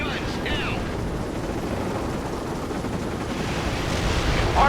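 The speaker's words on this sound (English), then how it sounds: "Apache initiating flyby attack." An Apache helicopter makes a flyby attack with gunfire in the video game World in Conflict. A dense, loud rumble of rotor noise and rapid firing runs throughout, under radio-style voices.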